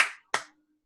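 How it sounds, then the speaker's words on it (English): Two sharp hand claps, about a third of a second apart, sound during a meeting audio check. They are fairly close but quiet, each fading quickly, followed by silence. "Can you clap twice if you can hear Michelle?"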